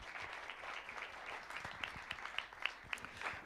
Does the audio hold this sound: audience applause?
yes